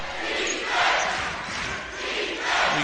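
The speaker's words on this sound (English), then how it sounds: "You can hear the crowd here" Crowd at a BBL Cup basketball game in Worcester between Worcester Wolves and Surrey Scorchers cheers and roars in swelling waves, loud and continuous, with a voice talking over it.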